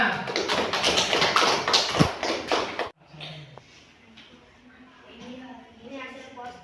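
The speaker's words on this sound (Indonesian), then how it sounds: "Tepuk tangan." A classroom group claps hands together in a dense, lively burst for about three seconds. It stops abruptly, and quiet talking and room sounds follow.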